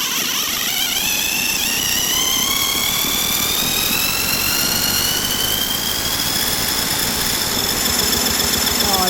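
A small engine with its spark plug removed is spun over continuously by a starter, a loud, close, unbroken whine and rattle whose pitch slowly climbs as the speed builds.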